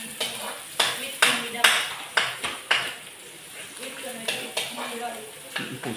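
Onions dropped into a hot pan sizzle as a cook stirs, with regular scraping and clattering strokes of a utensil against the pan every half second or so. Voices talk quietly underneath.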